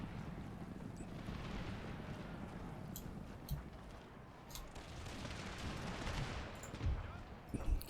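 Musket gunfire in the strategy game Empire: Total War, heard as a dense, distant rumble of volleys with scattered sharper cracks rising and falling over the battle.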